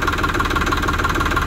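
A new Farmtrac tractor engine idles close by in a steady, even chug with a low rhythmic knock and vibration, with no talk over it.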